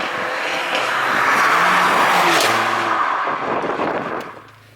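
A Mercedes-AMG A45 drives hard, its engine roaring loudly and steadily with rising tone changes, then fading away toward the end.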